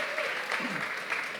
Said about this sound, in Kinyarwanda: Mumpera amashyi Fali Merci